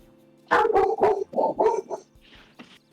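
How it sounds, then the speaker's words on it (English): A dog in a video game barks angrily in a quick run of gruff, throaty barks and growls, fairly loud and near, trailing off into a softer noise at the end. "That's an angry pupper."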